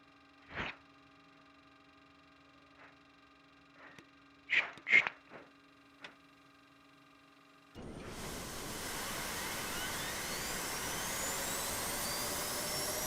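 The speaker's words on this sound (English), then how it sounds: "Left engine we're going to start first." F-4 Phantom's left jet engine starting up: a few scattered clicks and clunks, then a sudden broad roaring rush that comes in and holds steady, loud and close.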